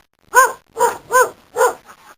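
A dog at a farm cottage barks four times in a close, loud, evenly spaced series, with a rough growling edge to each bark and no other sounds.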